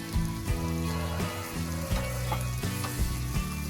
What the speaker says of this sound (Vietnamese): Cho một xíu nước lọc để chiên lạp xưởng.